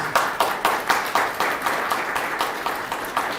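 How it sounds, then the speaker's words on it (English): An audience at a charity convention breakout session claps for the panelists, a dense, even round of applause from a modest crowd that carries steadily for a few seconds. "Could we start by showing my two fellow panelists our appreciation with a round of applause?"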